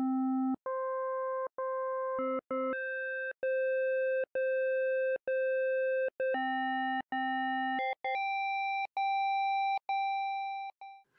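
FM synthesis tones with a 1-to-2 carrier-to-modulator ratio, a clean series of steady, hollow electronic notes that step between pitches in short, evenly spaced blocks, alone and fairly loud.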